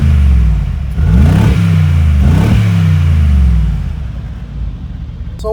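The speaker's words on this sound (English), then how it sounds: "Give it a few quick revs." A 2019 Mercedes-AMG G63 Edition 1 V8 in Sport mode with exhaust flaps open revs hard twice in quick succession, each blip rising and falling, then settles into a loud, close idle rumble.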